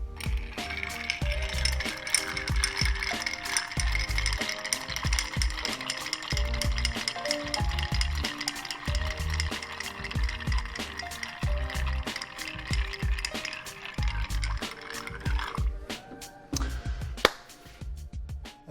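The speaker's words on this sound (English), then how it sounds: "1 or 2 dashes of Angostura bitters. And stir it down" A Monte Carlo whiskey cocktail stirred with ice in a mixing glass gives a steady, close, continuous rattle and clink of cubes for about fifteen seconds, then trails off into a few scattered knocks, with no talking.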